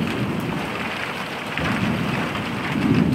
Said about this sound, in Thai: ยินดีต้อนรับเข้าสู่หน้าฝนอย่างเป็นทางการโดยช่องเอกชาแนลนะครับ